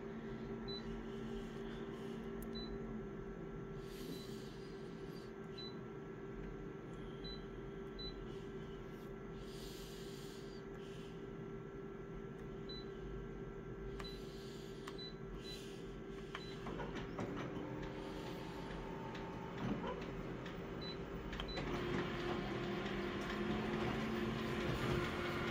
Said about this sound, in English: This photocopier is getting old. You can just hear that horrible vibrating noise that it makes sometimes.